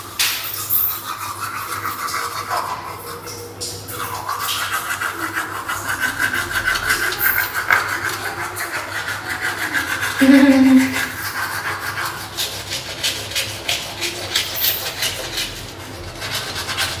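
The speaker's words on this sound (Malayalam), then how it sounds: "ഇപ്പോൾ ബ്രഷ് ചെയ്യാം." Someone brushes their teeth with a toothbrush, a close, continuous scrubbing and rasping with back-and-forth strokes, steady and fairly loud, with a brief louder scrape partway through.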